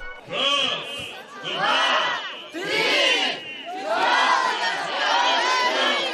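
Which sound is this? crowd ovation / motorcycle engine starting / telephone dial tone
crowd ovation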